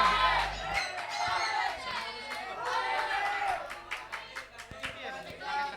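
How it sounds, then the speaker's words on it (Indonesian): At an Islamic competition final, the audience breaks into scattered clapping and crowd chatter that rises and falls for several seconds, not very loud, with voices mixed into the applause. "tepuk tangannya meriah dong"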